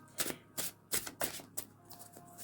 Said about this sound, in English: I'm going to have to shuffle lightly because they're very thin